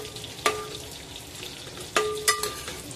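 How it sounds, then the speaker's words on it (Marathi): Garam masala being gently stirred into a mango fish curry in a pan, with a few soft spoon scrapes standing out over a low, steady simmer and sizzle. "हलक्या हाताने मिक्स करून घेऊया"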